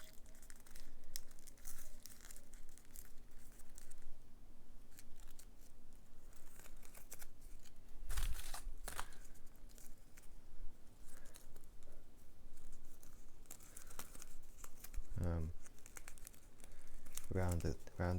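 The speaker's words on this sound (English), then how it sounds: "an inside reverse fold like that, and outside reverse fold back out" Paper crinkles and rustles while being folded into an origami penguin with inside and outside reverse folds, soft crisp creasing close by with sharper crackles near the end, under a person talking.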